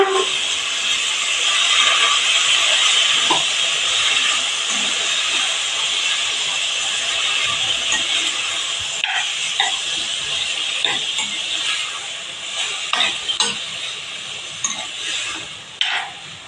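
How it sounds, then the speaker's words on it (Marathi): French beans stir-fry in a pan on a home kitchen stove, a steady loud sizzle and hiss running throughout, with occasional spatula scrapes and clinks against the pan toward the end. "आपण चांगलं परतून घेणार आहोत"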